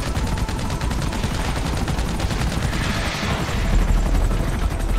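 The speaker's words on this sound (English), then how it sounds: "Please don't bomb the helicopter with your own helicopter" A helicopter in GTA Online thumps with steady rotor chop, loud and continuous, while rapid machine-gun style bursts rattle along with it throughout.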